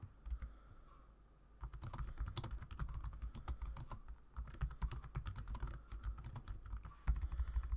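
Fingers tap out a steady patter on a computer keyboard, close and fairly soft, with a brief pause before the typing picks up again and runs on without speech.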